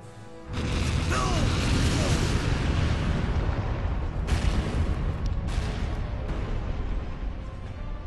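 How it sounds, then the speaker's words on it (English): A loud, sustained blast roars through a scene in Resident Evil Code Veronica X, rumbling heavily for several seconds with crackling debris and a few sharper bursts layered over the continuous low boom. "Explosion to the side at first."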